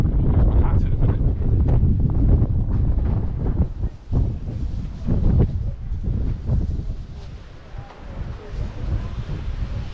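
A strong wind buffets the microphone at Palmanova, Mallorca, roaring loud and gusty for the whole stretch with only brief lulls.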